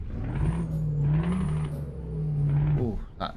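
A Scania truck engine in Euro Truck Simulator 2 drones steadily and shifts pitch as it drives, with a faint whine above and a short hiss at the end.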